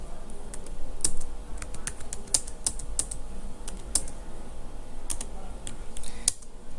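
Close, brisk typing on a computer keyboard while entering data in Marg ERP jewellery software, irregular key clicks with a few sharper taps over a low room hum.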